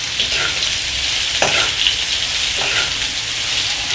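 Cabbage frying in a pan while being stirred, a loud steady sizzle with a few scraping strokes of a utensil, no voices.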